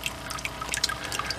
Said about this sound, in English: it's not a whole lot of dripping. It drips some